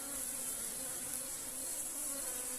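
Honey bees swarm around an opened hive with honey supers and a queen excluder, a dense, steady, agitated drone of many wings close by, continuous and unbroken, with no talking.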